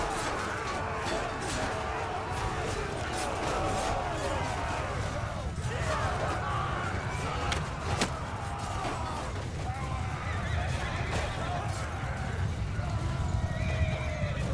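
Horses gallop in battle in the video game Mount & Blade II Bannerlord, with continuous clip-clop of hooves, neighing and whinnying amid clashing combat noise, while a voice talks faintly underneath.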